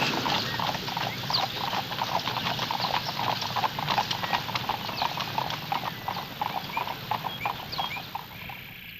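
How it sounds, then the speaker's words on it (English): Horses pulling the Governor-General's ceremonial carriage clip-clop steadily on pavement in Ottawa, a dense, continuous patter of hoofbeats close by with no talk. "When a new ambassador presents his credentials, the Governor-General sends his carriage."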